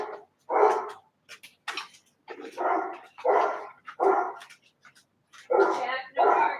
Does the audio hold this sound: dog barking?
yes